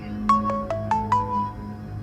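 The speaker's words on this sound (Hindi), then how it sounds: "अटेंड कर लें कॉल, काफी देर से आ रही है।" An incoming call on a phone plays a melodic ringtone, a series of bright rising tones repeating in quick succession, loud and close, with no talking over it.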